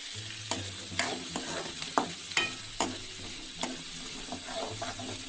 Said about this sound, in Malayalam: ഇനി തയ്യാറാക്കി വെച്ച ഉള്ളി നമുക്ക് അതിനകത്തേക്ക് ആഡ് ചെയ്യാം ഇതൊന്നും ഇളക്കി കൊടുക്കാം